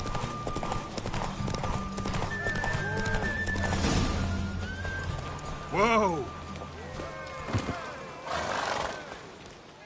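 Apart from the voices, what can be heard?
horse galloping and neighing in video game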